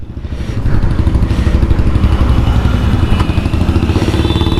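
A motorcycle engine runs loud and close, a steady rough drone with clattering texture and no talk over it.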